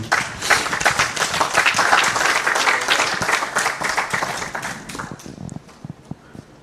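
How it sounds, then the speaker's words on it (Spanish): A church congregation applauds in praise of the Lord, a loud burst of many hands clapping that gradually thins into scattered individual claps and fades near the end. "Den un aplauso al Señor."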